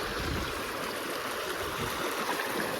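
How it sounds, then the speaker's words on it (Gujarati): Steady rushing of flowing stream water, a continuous broadband burble with no pauses and no voices. "પાણી ના જો મસ્ત મજાનું પાણી વહે છે."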